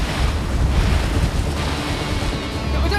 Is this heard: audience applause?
no